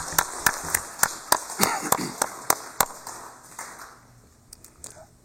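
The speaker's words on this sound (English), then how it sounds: "may I ask that we give them a collective round of applause" Scattered claps ring out in a sparse, uneven run in a legislative session chamber, a dozen or so sharp hand claps from a small group that thin out and fade after a few seconds.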